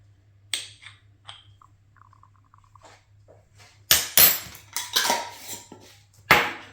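A utensil stirs cinnamon into cake mix in a bowl: a few sparse, light clinks at first, then a run of sharper scraping clatters and knocks against the bowl.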